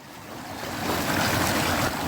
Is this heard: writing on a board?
no